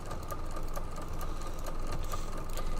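A sewing machine fitted with a walking foot stitches in the ditch on a quilt, running steadily at close range with a rapid, even mechanical chatter and no voices.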